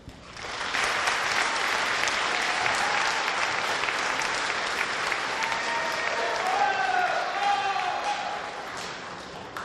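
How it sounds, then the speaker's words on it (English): A large school assembly audience breaks into sustained applause for nearly ten seconds, full and steady, with faint shoe squeaks and crowd murmur underneath. "we will give you a round of applause"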